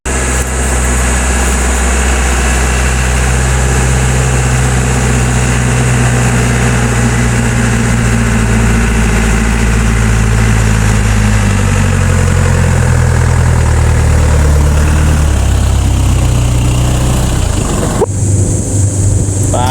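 A 4x4 vehicle's engine runs loud and steady as it climbs uphill carrying a load of passengers, a continuous low rumble that shifts in pitch near the end.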